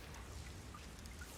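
Steady rain falls in a city scene from a video game trailer, a faint, even hiss of drops with scattered small patters throughout, alone and without voices.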